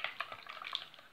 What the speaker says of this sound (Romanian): O să amestecăm așa să topim drojdia